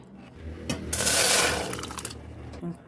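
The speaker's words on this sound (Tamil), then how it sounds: "இது மத்து இல்லை, அதனால கரண்டி வச்சு கடையிறோம்" A ladle churning cooked dal in a pot, giving a wet scraping and sloshing swell over about a second and a half, close and moderately loud with no speech.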